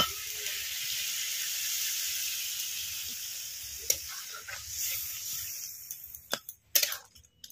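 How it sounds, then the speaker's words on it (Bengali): Water poured into a pan of sea crab cooking with spices, giving a loud hissing sizzle that gradually fades, followed by a few clanks and knocks of utensils near the end. "এবারে এর মধ্যে জল দিয়ে দেবো।"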